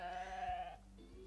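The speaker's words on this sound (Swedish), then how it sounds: "Bräkte precis åsorna åt mig, eller var det ett får?" Soft bleat of a farm animal in the video game Starshine Ranch, one brief wavering call over a faint steady game background.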